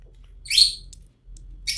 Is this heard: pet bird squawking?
yes